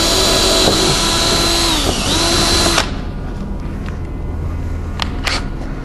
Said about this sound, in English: I'm going to come back up through with my 3/8 drill bit and drill these.